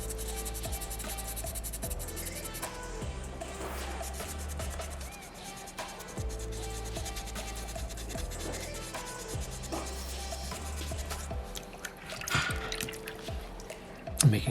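Folded sandpaper scrubs wet soapstone, a small butterfly carving, inside a water bucket, a steady close rubbing and rasping with faint drips, continuing evenly without speech over a low background tone.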